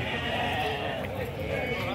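Busy goat and sheep fair in Canafístula de Frei Damião, Alagoas, with a dense crowd murmur and animal bleats mixed into continuous outdoor noise, voices talking throughout.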